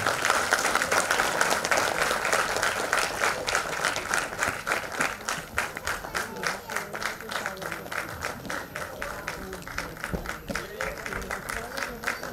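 Loud, sustained applause from an audience at a Veer Savarkar centenary memorial event, dense clapping over the full stretch with crowd voices mixed in and a slight tapering toward the end.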